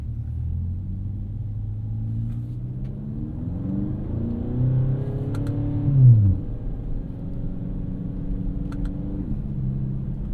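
A BMW X5 M engine revs under a gentle acceleration pull, a deep rumbling drone heard from inside the car that rises in pitch through the gears, with a brief shift dip around the middle.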